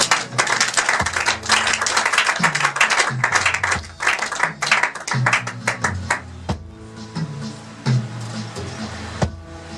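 A church congregation applauds and cheers to acclaim Jesus, with loud, dense clapping that fills the first part before thinning into scattered claps. Low voices and tones run underneath.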